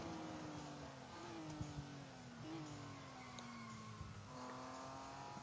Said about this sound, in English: this BMW is cruising through, eh?